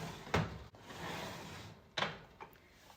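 A makeup drawer sliding open and shut in a quiet room, several short wooden knocks and scrapes spaced apart, close and fairly soft.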